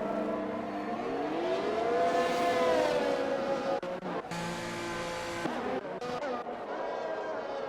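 Race cars in the pits of a Formula-style racing game at the Canada round, a loud engine whine rising and falling in pitch, with tire squeals and abrupt cut-ins of other car noise, continuous and close.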